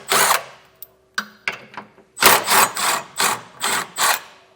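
Bursts from a power tool loosening the 17mm bolts of a tow hook on a Lexus, a short whir, a few quick ratchety taps, then five loud evenly spaced whirring pulses close up.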